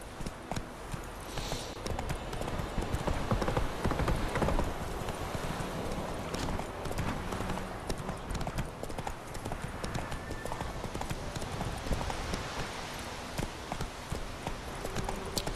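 Roach the horse in The Witcher 3 clip-clops along in a steady walking rhythm, hooves close and clear over a busy game soundscape, with a brief whinny.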